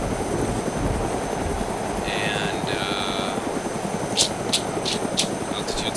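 A helicopter in the video game DayZ drones steadily during a gradual descent toward the ground, a continuous rotor and engine rumble, with a few brief higher tones and clicks from the game layered over it.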